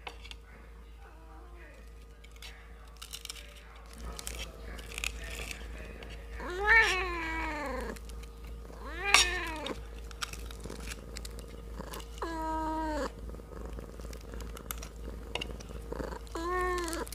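A kitten eats half a fish head, meowing several times in short, clear, close cries over soft chewing and crunching, with brief quiet gaps between calls.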